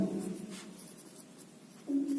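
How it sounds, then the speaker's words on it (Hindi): A black pen scratches across paper in short strokes, close and quiet, with brief pauses between bursts of writing. "इसका उदाहरण आपको ब्लैक पेन से ही लिखना पड़ेगा।"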